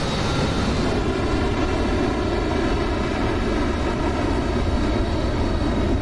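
A Harrier jet takes off in DCS World, its engine a loud, steady, broadband roar with a thin high whine running through it, continuous and close.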